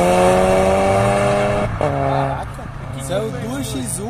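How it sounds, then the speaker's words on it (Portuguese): BMW X1 and X3 cars accelerate and rev hard near a lake, engines climbing in pitch with a sharp gear change, then fading under excited voices talking close by. "Saiu duas X1 e duas X3 acelerando."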